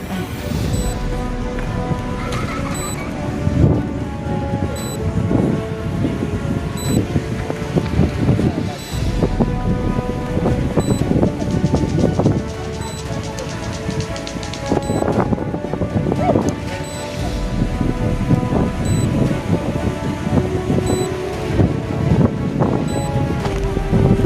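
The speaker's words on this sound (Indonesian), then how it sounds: "Anginnya kencang." Strong wind buffets the microphone aboard a boat on the Batang Hari river, a constant rumbling roar under a droning motor and water noise.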